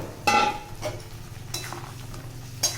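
A spoon stirs chicken into yogurt marinade and spices in a pan, giving a few soft metallic scrapes and clinks spaced across a few seconds over a faint low kitchen background, with no talking.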